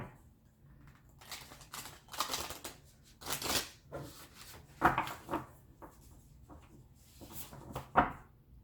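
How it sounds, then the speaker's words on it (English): Divine Oracle cards handled and drawn from a deck, a series of close, soft shuffling and card-flicking rustles in irregular bursts with quiet gaps between, no speech. "I'm going to grab one of these Divine Oracle cards for a final word."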